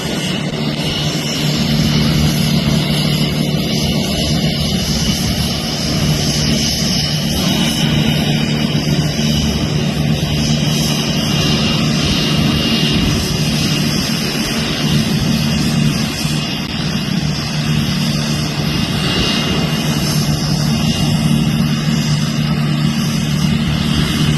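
Aircraft taxiing out at Kruger International Airport, a steady engine drone and hum running continuously and fairly loud throughout, with no talk over it.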